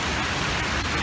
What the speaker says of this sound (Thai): สุดยอดเลยลูกเห็บตกซิดนีย์สดร้อนวันนี้